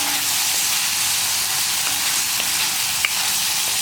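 Cooked pumpkin stir-fried in a pan over a high flame for a Kerala mezhukkupuratti, giving a steady, loud sizzle and frying crackle with faint stirring clinks throughout and one sharp click near the end.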